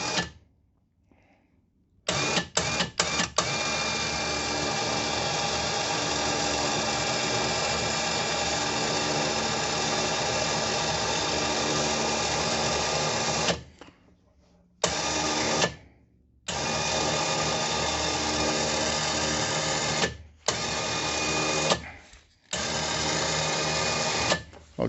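An electric winch on a CFMOTO ZFORCE 800 whirs steadily as it winds synthetic rope onto its spool. The close, even motor whine stops and restarts several times in short bursts, with no talking.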